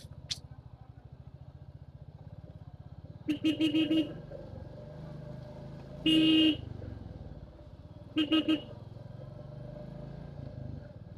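Road traffic on the Nandurbar to Dhule route, with a steady engine drone and several loud, close car horn blasts, including short rapid toots and one longer honk.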